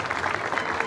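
Crowd applause at an awards ceremony for a regional rally race in Herradura, Formosa, a steady dense clapping wash lasting about a second with no clear gaps.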